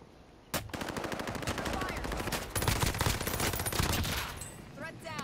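Rapid video-game gunfire crackles in sustained automatic bursts near a winery area, fairly loud and continuous for several seconds with faint talk mixed in.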